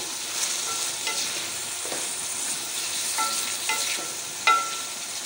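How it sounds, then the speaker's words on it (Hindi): Three large peeled, chopped tomatoes fry in a pan and are stirred, giving a steady close sizzle with scraping stir strokes and a few sharper clinks, with no talk. "टमाटरों को अच्छी तरह से मिक्स कर लेंगे।"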